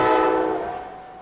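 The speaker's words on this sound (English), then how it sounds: "And we get the train coming through." A train passes near a Patriot versus SJ broadcast, its loud sustained horn blaring at the start and fading, with faint rumble of the rail cars beneath.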